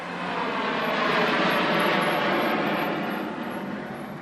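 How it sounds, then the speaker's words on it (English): Airplanes taking off and landing at an airport, a loud broad engine roar that swells and holds steady, then slowly eases off, with no voices over it. "we watch the planes take off and land."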